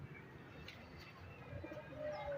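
Pigeons cooing near a catching net, soft low coos faint in a quiet outdoor backdrop, a few calls spread across the moment with a slight rise toward the end.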